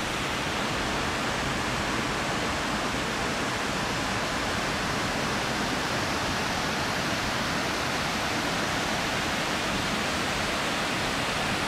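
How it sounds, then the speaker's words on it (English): A waterfall at Erawan National Park roars close by in a loud, unbroken wash of falling water, with no voices over it. "Look at these waterfalls close up."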